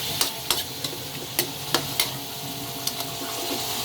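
Ingredients are sautéed with a spatula in a pan for Filipino sopas. A steady sizzle runs under sharp, irregular scrapes and clacks of stirring, close and moderately loud, with no talking.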